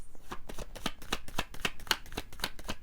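A deck of tarot cards is shuffled by hand in a quiet room, a rapid run of soft, even riffling flicks and taps repeating close to the microphone.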